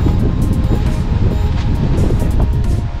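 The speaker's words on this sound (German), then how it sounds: "Ja, windig haben wir es heute ein wenig" Loud, constant west wind on Madeira buffeting the microphone, a dense low roar with gusty fluctuations and no pauses.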